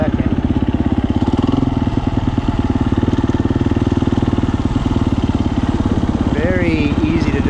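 Close, steady rapid thumping of a 2022 KTM 350 EXCF dirt bike with a Taco Moto Get SX1 ECU puttering along at low, even revs, with a brief rising whine near the end.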